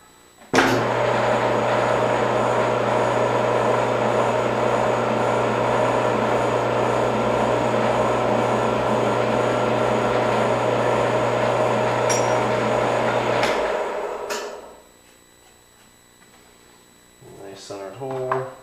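A lathe machining a muzzle brake part with a centering drill: a steady, loud mechanical hum with a constant low drone runs for about fourteen seconds, then winds down, followed by a few clanks and soft handling noises.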